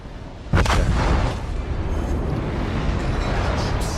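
Secondary guns firing from a warship in the naval combat game World of Warships, a sudden loud booming burst followed by sustained rumbling battle noise.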